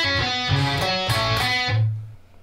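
Electric guitar plays a single bar of a solo, a few sustained, slightly distorted notes that end with a low held note fading out, heard alone.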